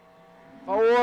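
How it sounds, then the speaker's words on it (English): A top fuel dragster at a drag strip starting to launch, a rising engine roar that grows sharply louder near the end of the short burst. "Spencer Massey left side, top fuel spin, dial 640."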